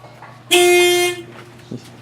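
A loud Honda Civic car horn blasts once, held for about three-quarters of a second, then cuts off, leaving quiet background.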